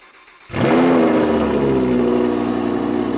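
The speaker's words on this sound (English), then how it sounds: "let's do cold starts. So start this Performante." A Lamborghini Performante engine fires up from cold after a half-second of quiet, catching with a loud bark and settling straight into a strong, steady high idle that stays loud to the end.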